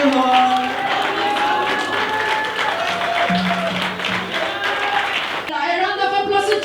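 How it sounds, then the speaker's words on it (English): Church congregation applauding and cheering, a dense, steady wash of clapping and crowd noise mixed with voices and some musical tones, fairly loud throughout before easing off near the end. "A round of applause to Jesus"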